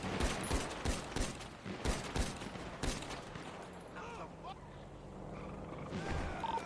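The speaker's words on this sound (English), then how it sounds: "They're still shooting." Sustained gunfire from a gang shootout in a video game, with many sharp shots in rapid bursts over the first few seconds, then thinning to scattered rounds and a lingering rumble.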